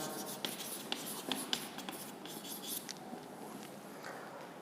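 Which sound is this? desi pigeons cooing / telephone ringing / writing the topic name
writing the topic name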